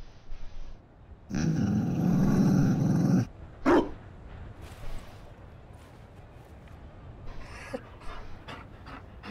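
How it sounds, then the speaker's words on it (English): A Mabari war dog in the video game Dragon Age Inquisition pants heavily for a couple of seconds, followed by a short growl and a few softer huffs and movements, close and fairly loud against quiet game ambience. "You found a dog?"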